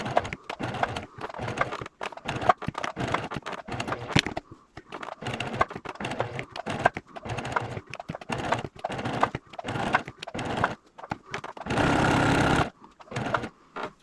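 Sewing machine stitching an applique with a back tack, stop-start bursts of rapid needle chatter, close and fairly loud, with a longer steady run near the end and no voices.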